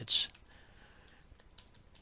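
Someone types an email address on a computer keyboard, a quick run of light, close key clicks with brief pauses between, fairly faint overall.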